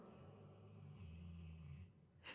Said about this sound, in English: Can I sell Thor's snore as ASMR?